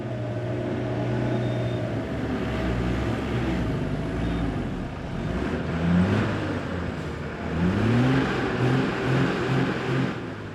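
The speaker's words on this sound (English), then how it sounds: "the first vehicles attempt to make their way through the slippery mud" A truck engine revving hard in slippery mud on the Manali-Leh Himalayan highway, a low steady rumble with repeated rising revs toward the end, fairly close and loud, no talking.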